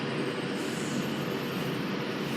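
A Buxton service train running through Stockport station, heard as a steady, continuous broadband rumble of wheels and engine with no breaks or talk.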